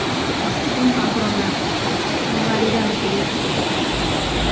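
Floodwater in Veerapandi, Theni, roars steadily close by, a dense unbroken wash of noise with no pauses.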